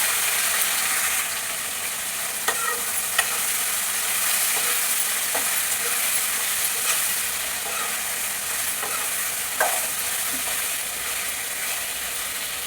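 A spoon stirs tomato and brinjal frying in a pan over a constant hiss of sizzling oil, with scattered scraping clinks against the pan.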